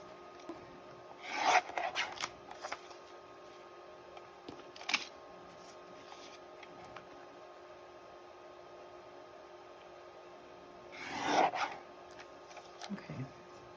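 Scissors cutting junk-mail paper for a handmade window envelope, giving a few short, close crisp snips and rasps separated by quiet pauses.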